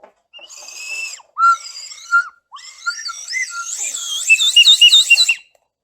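A bird-call whistle toy blown in short warbling bursts, imitating bird calls, rising to a rapid trilling chirp near the end.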